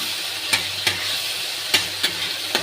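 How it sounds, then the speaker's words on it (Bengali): Cumin-ginger paste and green chilli sizzle steadily in a pan while a spatula scrapes through them in sharp, irregular strokes, about six distinct scrapes over the constant frying hiss. "জিরে আদা বাটা দিয়ে একটু হালকা নেড়ে নেব"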